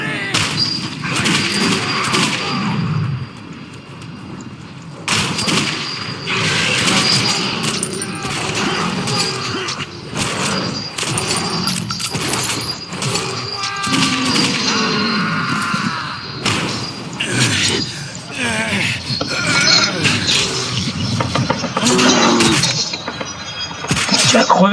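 Gunfire in the game Metro Redux, with repeated sharp shots and heavy thuds scattered through a long, busy combat scene, loud and close, while voices speak in French over the action.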